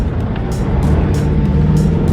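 A budget 4WD rumbles along a bumpy little track on the way to Border Village near the Nullarbor, its engine and road noise forming a steady, loud, close drone with occasional thumps from the rough surface.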